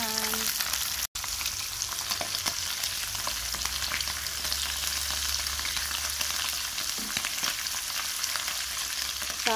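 Dried fish (bulad) fries in a pan with a steady, loud broadband sizzle and crackle that holds throughout, briefly cut by a short gap near the start.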